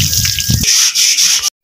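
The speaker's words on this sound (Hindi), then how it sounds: "जल्दी जल्दी से चारपाई धो लूं" Water splashing and dripping as a charpai cot is washed in a village home, with a few close splashy bursts followed by a steady wet trickle that cuts off abruptly.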